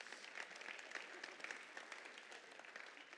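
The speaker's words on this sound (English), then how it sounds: "So give yourselves a round of applause" An audience at a university athletics awards show applauds with steady, dense clapping from a large crowd, sustained evenly across the moment and heard from some distance.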